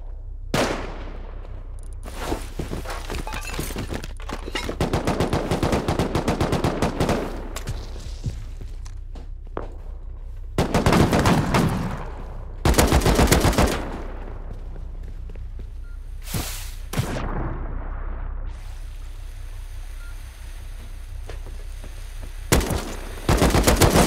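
Gunfire in the survival game Rust during a base raid, with rapid bursts of shots including sniper fire, several loud volleys spread across the span and quieter gaps between them.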